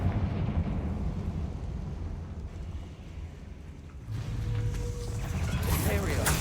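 A rumbling, blustery fire blast from the Confringo spell in Hogwarts Legacy, a low sustained roar that swells toward the end with a brighter crackling burst and a whoosh.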